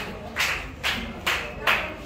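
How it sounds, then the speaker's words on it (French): Wedding guests clapping in a slow, regular rhythm, four distinct claps spaced evenly over a soft background murmur of the gathering. "applaudir très très fort"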